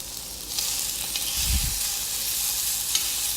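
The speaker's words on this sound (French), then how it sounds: "On remue régulièrement pour ne pas avoir trop de caramélisation, mais que ce soit uniforme" Pork belly and black turnips with a garlic clove caramelizing in a cocotte, a continuous close sizzle with a brief low scraping stir midway.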